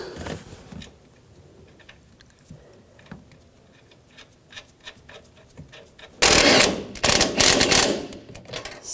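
Nuts on a 2014-2018 GMC Sierra shock and spring assembly are run down with a power tool, quiet clicks and taps giving way to a loud, rapid rattling burst near the end.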